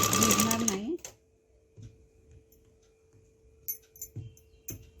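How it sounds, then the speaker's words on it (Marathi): A sewing machine stitches a blouse, the drawstring being tacked in place with a couple of stitches; a short burst of loud whirring at the start is followed by quieter intermittent clicks and a steady hum, with someone speaking over it. "तिथे दोन तीन शिलाई मारून घ्यायच्या आहेत नाडीच्या तिथे"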